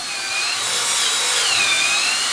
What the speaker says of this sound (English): the speed in which this drill turns is not that fast